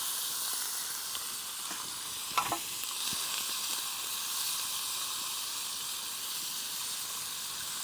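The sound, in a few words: shrimp sizzling in a pan while camping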